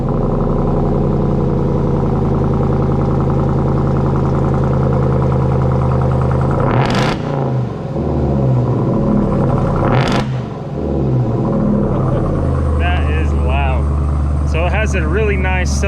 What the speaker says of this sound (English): gets that loud crack noise that, I mean, Hellcat motors are notorious for